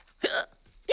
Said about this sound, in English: Now I've got the hiccups, too.